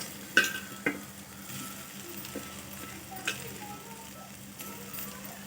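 Boiled soy chunks (meal maker) tossed into a pan of frying onions, sizzling steadily with a few sharp clicks of a spoon scraping and stirring, close and moderately quiet.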